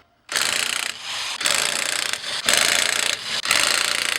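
A ratchet undoes coilover bolts on a 6th-gen Honda Civic Si, loud and close, in several rapid clicking runs of about a second each, separated by brief pauses.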